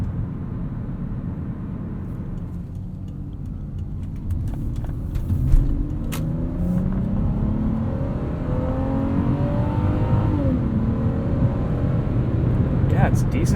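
A 2003 Lexus GS 300 with a five-speed gearbox drives along, its engine note rising smoothly under acceleration over steady road and cabin rumble, heard from inside the car.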